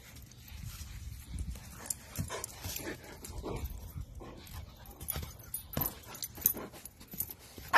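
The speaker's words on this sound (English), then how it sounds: "This dog got really excited when their owner found them hiding." An excited dog pants rapidly and whimpers close by, with scattered scuffling and soft movement noises and no talking.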